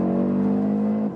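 An Audi RS Q3 engine revs hard at high RPM, a loud, steady, close-up drone with a strong harmonic whine that holds throughout, then drops slightly at the very end.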